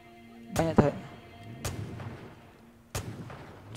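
Gunfire in the video game Far Cry 5 comes as a few sharp, booming shots spread over several seconds. The first is a quick double blast, followed by single reports. They are moderately loud, with a faint ambient background.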